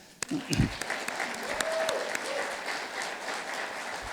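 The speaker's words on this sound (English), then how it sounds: "if we can give her a round of applause" At a community conversation on election trust, an audience breaks into a round of applause, steady and moderately loud, with a voice and a brief sound at the start.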